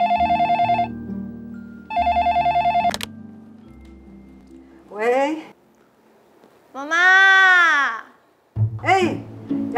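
A telephone rings in two short electronic bursts, followed by people talking nearby in an indoor drama scene.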